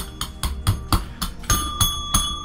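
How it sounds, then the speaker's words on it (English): A repeated struck bell sound effect rings in a steady rhythm of about eight sharp strikes, each with a short metallic ring, close and clear with no talk. "I'm pleased the bell worked for that one."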